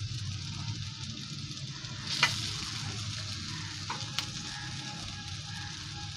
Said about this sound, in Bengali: মিডিয়াম টু লো ফ্লেমে ভাজছি